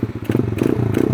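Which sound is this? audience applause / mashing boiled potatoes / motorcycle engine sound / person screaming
motorcycle engine sound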